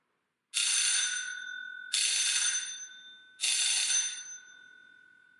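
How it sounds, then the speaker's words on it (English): House bell system with a cast-iron butler bell ringing: three sharp, bright metallic strikes about 1.5 seconds apart, each with a ringing tail that fades, in an otherwise quiet room. "The problems with the bells is that they make a quite unsatisfactory noise and I almost always get a heart attack when they start"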